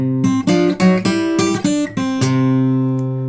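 A short, bright Piedmont blues guitar lick of quick plucked notes with slides and bends, ending on a sustained ringing note, played alone and close.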